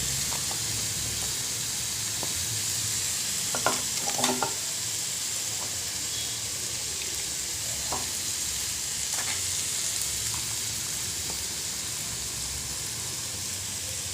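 Ginger and garlic paste frying in oil with softened tomato and onion, giving a steady close sizzling hiss throughout, with a few soft stirring scrapes and clinks and no talk.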